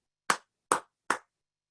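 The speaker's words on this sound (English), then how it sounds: "Let me clap 3 times and I'll have you do a quick intro." Three sharp hand claps, evenly spaced about 0.4 seconds apart, close and crisp against near silence.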